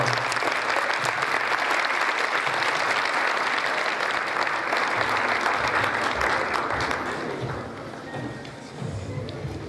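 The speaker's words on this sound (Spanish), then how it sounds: "Recibamos con un fuerte aplauso a nuestras invitadas del día de hoy." Steady, sustained applause from a large crowd, loud and continuous, tapering slightly near the end.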